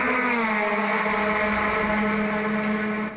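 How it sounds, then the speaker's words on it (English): A race car engine at the Sebring endurance enduro holding a loud, sustained high-revving note as it passes close by, with a slight pitch drop toward the end. "You just hear these engines and hear all these guys going around."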